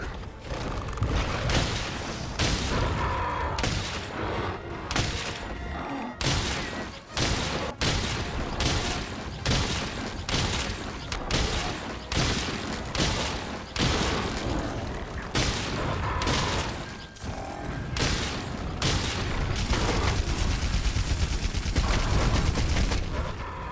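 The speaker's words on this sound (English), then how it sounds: "test out the newly acquired Great Jagras heavy bowgun with that spread ammo" The Great Jagras heavy bowgun fires spread ammo in Monster Hunter World, rapid loud booming blasts over roughly twenty seconds amid clanking mechanisms and a dense battle din.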